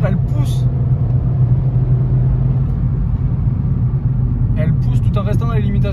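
A Seat Ibiza 1.2 TSI with a stage 1 tune pulls hard uphill in second gear, its engine a steady low droning rumble inside the cabin while someone talks over it throughout.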